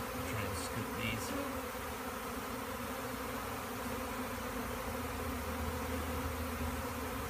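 Bee swarm during capture, a dense continuous buzz of many bees close by, loud and unbroken throughout, with no voices.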